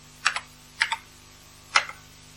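Typing on an Acorn Electron home computer keyboard from 1983: three separate clear keypresses, each a short crisp click, spaced unevenly across a couple of seconds over a faint steady hum, with no talking.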